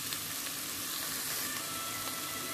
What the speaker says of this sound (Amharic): ይሄ ትንሽ ጠብሰዋለሁ።